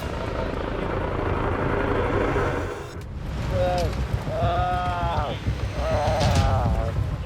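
A medical helicopter's rotor thrums steadily throughout at an Australian trauma scene, with voices rising over the drone in the second half.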